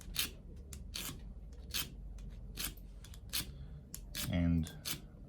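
A cheap pair of scissors is worked on a scissor sharpening tool, giving a series of short, bright rasping strokes with quiet gaps between them and a faint voice underneath.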